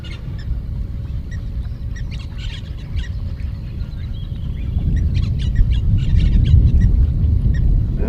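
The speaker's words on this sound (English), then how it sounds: "Egyptian geese is one of those animals, or the birds, that make quite a racket." Egyptian geese honking and squawking noisily in a run of harsh, uneven calls over a steady outdoor rumble, growing somewhat louder toward the end.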